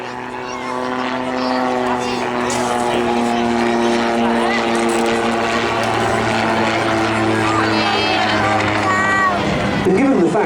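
Autogyro flying at an air show, its steady propeller and rotor drone holding constant throughout with strong tonal engine harmonics, while a voice talks over it.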